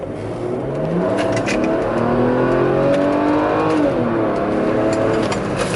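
A Mercedes W124 station wagon accelerates onto a highway, heard from inside as a steady engine drone rising in pitch through the gears, loud and continuous with road noise.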